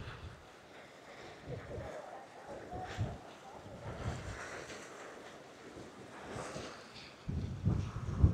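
Strong wind sweeps across the Kondapochamma Sagar reservoir near a pump house gate, a continuous rushing roar with microphone buffeting that swells into louder gusts toward the end.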